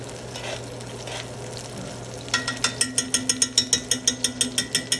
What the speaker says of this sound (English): this is a total game changer when you baste your meat